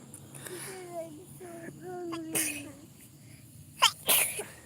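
A sharp sneeze bursts out near the end, followed quickly by a second, loud and close, after quieter background voices and a child's chatter.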